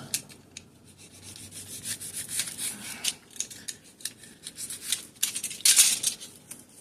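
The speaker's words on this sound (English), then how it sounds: "I'm going to go ahead and cut these into 12 blocks." Blocks of wax and dryer lint fire starter are cut with repeated gritty rasping strokes, close and fairly quiet, with a louder scraping burst near the end and no speech.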